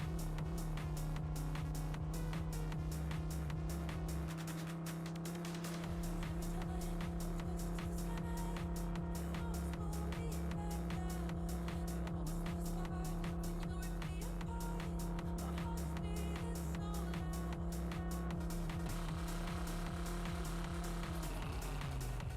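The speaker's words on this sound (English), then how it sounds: "tried to drift, but it's a muscle car" Ford Mustang muscle car being driven hard in a racing game while attempting to drift, a steady loud engine drone with rapid pulsing that holds nearly constant throughout and briefly dips mid-run.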